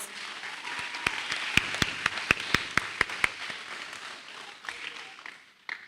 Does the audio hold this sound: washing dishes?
no